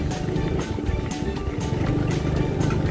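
A motorcycle engine with an unrepaired fault rumbles steadily with a rough, rattling drone and some scattered clatter, fairly loud throughout.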